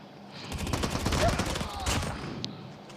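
Call of Duty gameplay gunfire plays as a dense, continuous burst of rapid automatic shots, loud and close, fading slightly toward the end with one last sharp crack.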